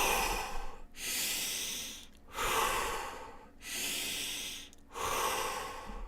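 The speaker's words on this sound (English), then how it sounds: "If it's really upsetting us, it's where we do the phase 1 breath." Slow, deep, deliberate breathing for a calming breath technique: loud, close inhales and exhales alternating in long, even cycles of a second or more, with short pauses between and no talk.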